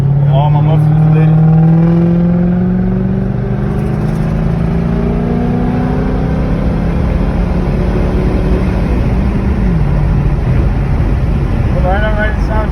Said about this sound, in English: That's what it sounds like after I got all my mufflers lit.